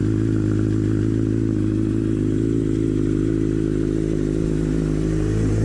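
A motorcycle engine idles steadily nearby, a continuous low rumble with a faint clattering texture throughout.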